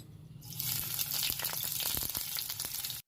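Chopped onions hit hot oil in a kadai, bursting into a loud, crackling sizzle that holds steady and close for a few seconds, with no talking.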